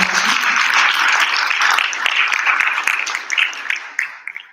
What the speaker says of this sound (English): Please give a round of applause for a wonderful and talented performance.